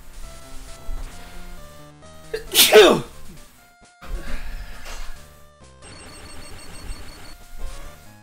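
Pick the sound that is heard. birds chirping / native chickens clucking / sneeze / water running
sneeze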